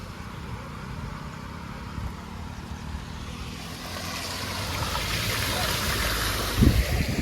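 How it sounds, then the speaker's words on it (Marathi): Steady, broad rushing of fast-moving floodwater in a village in Sindhudurg, Konkan, swelling louder toward the end, like a torrent pouring past close by. "पाण्याचा लोट आहे ना एवढा"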